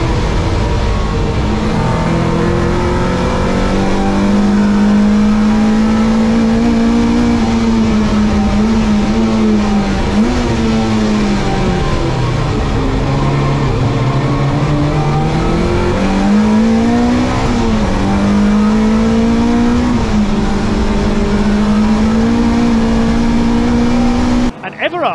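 BMW E30 325i race cars howl at full throttle on a drying circuit, one engine note rising and falling through gear changes and corners, loud and continuous with a commentator talking over it.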